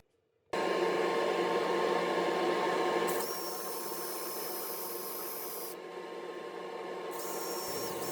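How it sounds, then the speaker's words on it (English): A drill bores out padauk wood and resin close by, a loud continuous whine and grind with high-pitched squeals coming and going as the bit cuts. "So using a drill to drill out most of the material"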